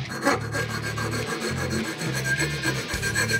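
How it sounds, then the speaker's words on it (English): Rasping strokes from a tool deburring the cut end of a 2015-2017 Mustang GT exhaust pipe during an axle-back install, a steady close scraping that comes in short repeated passes with no voices. "Now you'll want to deburr it before we put the new pipe on."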